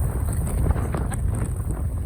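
Cold wind blowing outdoors, a steady rumbling buffet across the microphone, loud and continuous without pause.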